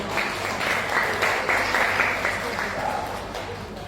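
Parents at a school parenting event applaud in a steady, even stretch of clapping that eases slightly toward the end, with a voice briefly audible beneath.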